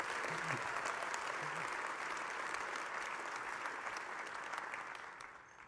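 A large audience at the DrupalCon Atlanta opening keynote breaks into sustained applause, a dense, even wash of clapping that tapers off slightly toward the end.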